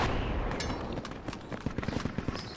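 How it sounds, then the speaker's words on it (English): Incoming rockets burst in a video game firefight, a rapid series of sharp explosive cracks building toward the end, with heavy rumbling in the background. "Careful. Rockets coming in."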